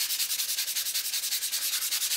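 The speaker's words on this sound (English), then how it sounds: "When you sand it, you want to lightly sand it." Light, even strokes of 100 grit sandpaper rubbing across a dried wall patch, a steady rhythmic scratching of about four passes per second, close and alone with no talking.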